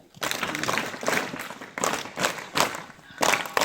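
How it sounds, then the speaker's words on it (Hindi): Students at a government intermediate college in Chamoli district, Uttarakhand, applaud their principal and staff with loud, crowded clapping in several surging waves, close and energetic, filling the room. "उन सब के लिए एक जोरदार ताली"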